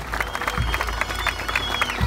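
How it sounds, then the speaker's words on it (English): A crowd at an outdoor memorial ceremony in a park claps for a pipes and drums band, brief and fairly close, with dense mixed clapping. "Let's give a round of applause for the pipes and drums."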